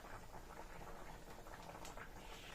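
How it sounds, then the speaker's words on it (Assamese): Pork meat boils in a pot, with a steady, dense bubbling and low rumble that holds without pause, fairly close and unaccompanied by talk. "গাইজ এতিয়া মাংস উতলি আছে"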